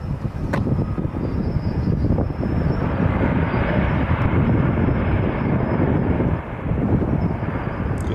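A Delta airliner arriving from LaGuardia at Nashville International Airport roars as a broad, steady rush of jet noise that holds loud for several seconds, with some wind buffeting.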